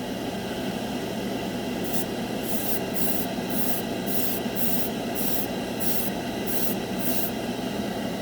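A can of Splash Paints Metalizer spray paint hisses in repeated short bursts as a coat is applied, each spray lasting under a second, over a constant loud background hum.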